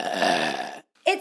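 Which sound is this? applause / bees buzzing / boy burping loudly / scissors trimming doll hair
boy burping loudly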